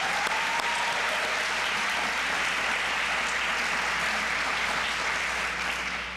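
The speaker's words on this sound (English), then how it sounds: "I want to give a large round of applause for everybody that came here today and contributed to our success." An audience at an end-of-summer celebration breaks into sustained applause, a thick, even roar of clapping that holds at full strength throughout and fades only slightly at the close.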